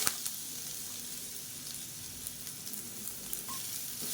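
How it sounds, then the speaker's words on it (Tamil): Asafoetida, curry leaves and ground rasam powder fry in hot oil for an immunity rasam, giving a steady close sizzle with light crackling pops and no one talking. "பெருங்காயம் நல்லா பொரிய ஆரம்பிச்சிருச்சு."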